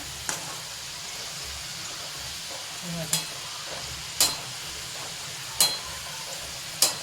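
Khaja dough frying in oil while being stirred and flipped, a steady soft sizzle broken by several sharp scraping clatters of the utensil against the pan at irregular intervals.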